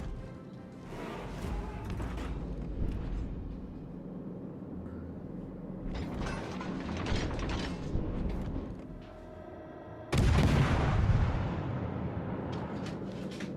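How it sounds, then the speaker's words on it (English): Naval gunfire in World of Warships: Legends, the player's ship shelling the carrier Langley, with rumbling salvos and dense booming bursts over a constant engine and sea drone, including a heavy blast near the end. "shots out on the Langley again"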